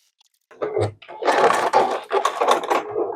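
A sewing machine runs a stay stitch on a quilt block in an uneven, rough burst of about two and a half seconds, close and fairly loud after a brief quiet start, with no talking.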